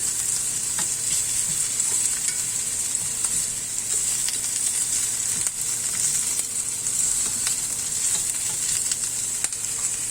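Beef sizzles and fries steadily in a pan for Filipino bistek, a loud, continuous hiss with no pauses and occasional faint clicks of stirring.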